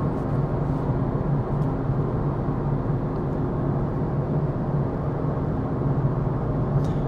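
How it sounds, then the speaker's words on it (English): A 2010 Toyota Aygo being driven, with steady low road rumble from the tires and a droning exhaust hum that holds a constant level throughout, heard from inside the cabin with no talk. "there's some tire noise and exhaust noise, of course"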